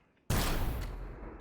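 A single loud, close gunshot goes off in Empyrion Galactic Survival, a sharp blast followed by a long, fading rumble.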